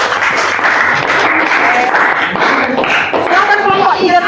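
Classroom applause for a student group, a dense burst of clapping under a teacher's voice calling the next group up.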